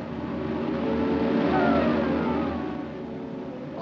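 A car engine drones steadily as it drives, a continuous low rumble that swells slightly in the middle and eases off, with no voices.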